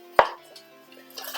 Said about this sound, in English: cut it into chunks and put it back into the saucepan that you just took off with the vinegar in it